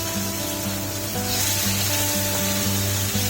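Pomfret fish frying in a pan, a loud continuous sizzle close up over a steady low hum.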